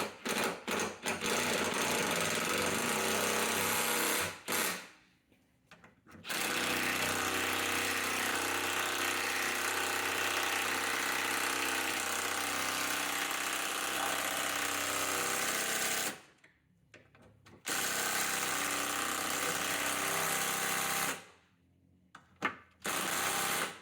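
A power tool drives self-tapping 10mm bolts into aluminum while a Tesla Model S frunk latch is fitted, running in long loud continuous buzzing bursts separated by short pauses, close up with no talking.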